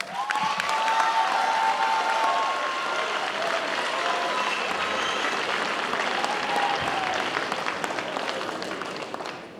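Sustained applause from a large audience at a school graduation ceremony, dense steady clapping that carries loudly for the whole stretch with faint cheers and crowd noise mixed in.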